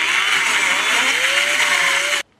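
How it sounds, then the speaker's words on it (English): A power drill whirs steadily at close range, spinning a valve against its seat in a Norton motorcycle cylinder head for about two seconds before cutting off abruptly. "Lapping goes a lot quicker if you grab the end of the valve with a drill."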